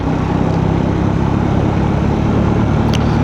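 A motorcycle cruising in fourth gear on a ride from Leh city to Nubra Valley in Ladakh, giving a loud, steady engine drone mixed with rushing wind, close and continuous throughout.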